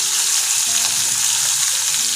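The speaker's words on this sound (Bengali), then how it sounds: "দেখতেই পাচ্ছ আমার মাছ অলমোস্ট ভাজা হয়েই এসছে।" Fish frying in oil for a coriander fish curry, a steady dense sizzle that stays loud and even throughout with no voices over it.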